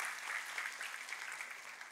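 A church congregation applauds God during a sermon, a steady, faint wash of many hands clapping, heard from a distance without pause.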